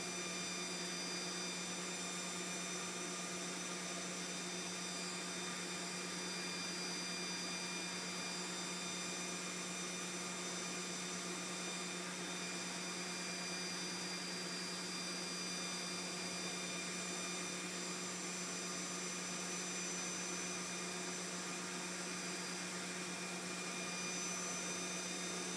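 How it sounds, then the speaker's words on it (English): An extractor fan runs beside a hot air rework station as it warms up, a constant broadband whoosh with a steady low hum, unchanging and close for the whole stretch. "So extractor fan on, warm this up"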